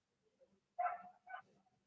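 Small dogs bark in two short yappy bursts, faint and a little distant, with quiet whimpering sounds before them. No one speaks.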